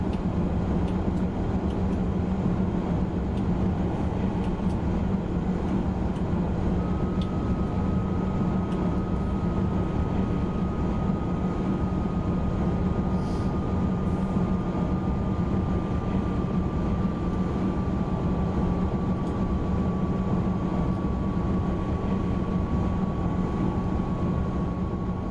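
Steady, loud drone of a TGV Duplex high-speed train running in Train Simulator 2019 on the LGV Lyon–Marseille line, with a constant low rumble and a faint tone slowly gliding down, unbroken throughout.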